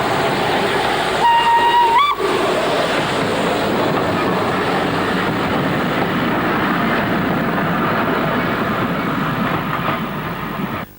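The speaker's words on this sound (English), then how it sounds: "One of the railway's smaller locomotives, J72 number 69023, draws a short train past the New Bridge site." A small J72 steam locomotive, number 69023, draws a short train past New Bridge on the North Yorkshire Moors Railway, a brief whistle at the start giving way to a loud, steady roll of wheels and carriages passing close by.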